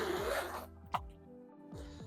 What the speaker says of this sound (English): It does have a nice full zipper opening, so it's super easy to get your items in and out of.